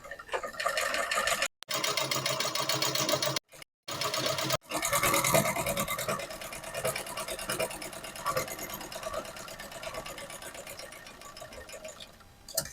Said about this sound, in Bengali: দেখেন এই পাশে আমি আবার সেলাই দিব, দেখবো সেলাই কেমন হয়।